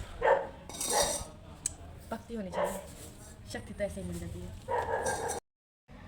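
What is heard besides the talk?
dog barking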